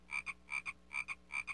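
A cartoon frog croaks in the Windows 3.1 game The Otter's Adventure, four evenly spaced paired croaks in a steady rhythm over a faint low game hum, close and moderately quiet.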